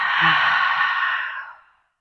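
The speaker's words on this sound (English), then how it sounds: "Another big inhale in and then exhale." A single deep, breathy exhale from a person seated in a chair yoga class, close and clear, fading out smoothly into silence.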